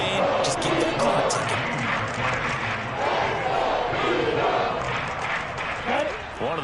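A football stadium crowd at a Green Bay game roars steadily before a big third down, a dense continuous wall of cheering and shouting with voices mixed in.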